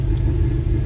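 A 1987 Monte Carlo SS engine idles steadily nearby, a low, even rumble with no revving or voices.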